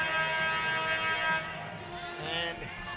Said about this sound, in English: the buzzer sounds for the end of the timeout